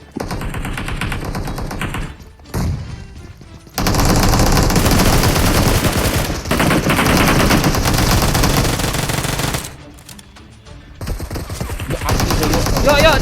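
Fast, loud automatic gunfire in the mobile battle royale game PUBG Mobile comes in long sustained bursts with a few brief pauses, dense and close, while players talk over it.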